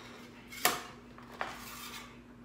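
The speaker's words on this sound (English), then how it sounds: "then you're gonna scrape off the meat" A metal utensil scrapes meat from a cooked ham hock into a bowl, giving two sharp clinks against the dish a moment apart over quiet kitchen background, close by and with no talking.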